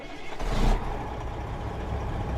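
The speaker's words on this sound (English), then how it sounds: "so we've got the Cummins ISX in today, and it is nice" Cummins ISX truck engine from a sound mod in a trucking video game, a steady low diesel drone with a brief louder swell early on, no talking.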